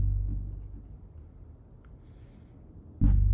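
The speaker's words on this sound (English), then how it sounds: "So that's kind of a thumpy, echoey bass" Thumpy, echoey bass in the first chorus of a 90s nostalgia-style Logic Pro production: a deep, booming low rumble sustains and fades, then a fresh low hit swells near the end.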